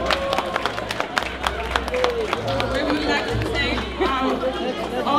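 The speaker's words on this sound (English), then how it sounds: "Donc vos applaudissements s'il vous plaît." An audience at a Guinean anniversary celebration in Calgary claps amid lively crowd chatter and voices, with sharp individual claps standing out through a busy, talkative room.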